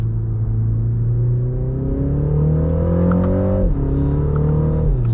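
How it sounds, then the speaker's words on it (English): Inside a 2025 MINI Countryman John Cooper Works, the engine note climbs loud and steady under hard acceleration, briefly drops at a gear change, then rises again, with engine sound boosted through the cabin speakers. "I'm going to roast through some gears for a second."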